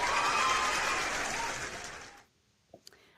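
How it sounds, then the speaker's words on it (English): Audience applause for a Texas 25th Congressional District candidate at a campaign event swells briefly, then fades out to near silence, followed by a couple of faint clicks. "you get applause and everything"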